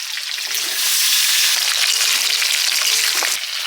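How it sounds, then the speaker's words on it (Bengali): Potatoes dropped into the oil left from frying brinjal hiss and sizzle loudly and continuously, with light bubbling crackle throughout a short stretch. "বেগুন ভাজার তেলে আলুটা দিয়ে দিচ্ছি"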